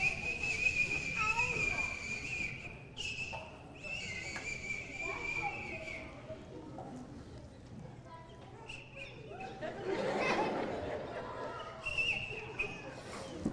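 A comedian on stage imitates a whistling sound heard inside a house at night, with a series of thin, high whistled tones that stop and start, mixed with his speech and a louder burst from the audience.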